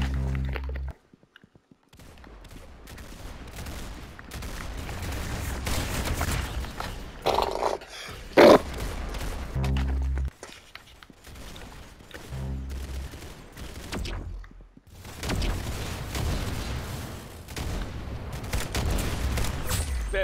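Gunfire in the Roblox video game, with bursts of rapid shots and single loud reports in several separate volleys, alternating with brief quiet gaps.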